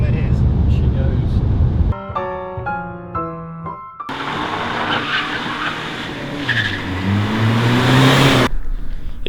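A cheap used BMW saloon skids and revs, with tire squeal and engine noise rising loud and close through the second half after a stretch of music, while someone talks over it.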